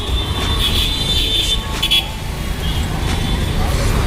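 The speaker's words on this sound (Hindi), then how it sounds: "इधर से ट्रैफिक खुल गया है, गाड़ियाँ बहुत सारी आ रही है।" Heavy street traffic in Ranipura market, Indore, with many vehicles rumbling past and short horn toots cutting through, loud and close; someone talks over the din.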